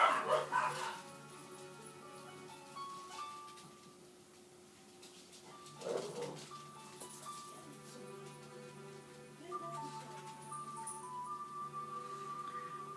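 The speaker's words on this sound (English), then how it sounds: "if you guys hear a growling back in the background, I apologize" Small dog barking and yipping with occasional growls in the background, irregular bursts at moderate distance over a steady household hum, no speech.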